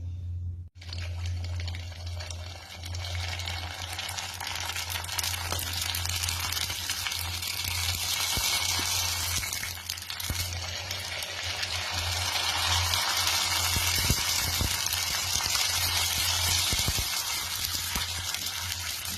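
Phuchka puris deep-fry in hot oil, a continuous loud, fizzing bubble and hiss that swells gradually, with a steady low hum underneath and no talking.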